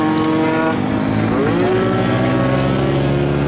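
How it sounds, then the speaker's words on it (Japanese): A Honda Monkey-type horizontal engine swapped into a Choinori scooter runs loud and close, a steady dense engine drone with a pitch that rises and shifts midway, continuous throughout with no talk. "エンジンかかる。"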